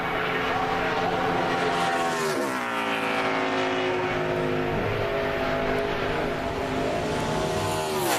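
A NASCAR Nationwide Series race car at Charlotte roars through a 2008 qualifying lap, its engine pitch sweeping and shifting as it passes, loud and sustained with no talk.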